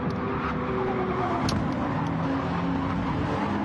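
A Porsche 911 RSR's flat-six engine drones steadily in a racing game on hill roads in Japan, a sustained loud engine note with slight pitch shifts and no talk.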